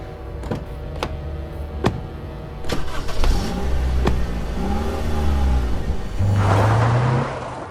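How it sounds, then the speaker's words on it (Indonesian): A box truck drives along a road in a forest, its engine humming steadily and revving up a few times, with a few brief knocks early on and no talking. "Fikri menyetir mobil boxnya mengikuti arahan dari Somad"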